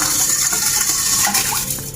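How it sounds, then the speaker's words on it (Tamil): Water poured into washed rice in a rice cooker pot for chicken fried rice, a steady close splashing gush that runs the whole time without pause. "இந்த அரிசிக்கு தேவையான நீரை சேர்த்துருவோம்"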